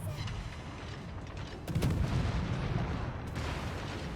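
Warship guns firing in World of Warships, with a heavy booming salvo that rolls on as a rumbling roar, followed by another sharp blast near the end.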